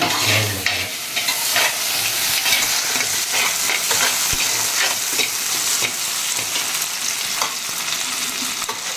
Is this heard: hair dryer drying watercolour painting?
no